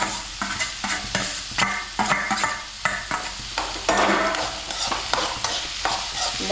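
Onion with crushed ginger, garlic and green chili is sautéed in a pan. Rhythmic scraping stir strokes repeat about every half second over a continuous sizzling fry, close and loud, with no talk.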